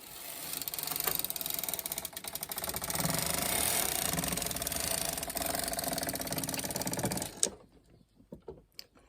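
A Toyota 901 knitting machine carriage is pushed slowly along a full bed of needles, giving a steady, close mechanical whirring clatter for about seven seconds before stopping, followed by a few light clicks.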